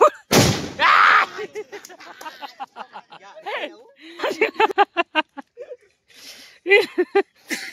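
A firecracker bomb bursts outdoors on a hilltop with one sharp, loud, close bang, followed by people talking and laughing.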